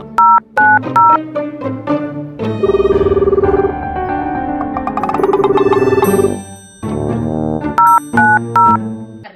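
A telephone call is dialed as a run of bright keypad tones, then a long sustained tone pattern plays, then more quick dialing tones follow, all clear and close with no talk over them.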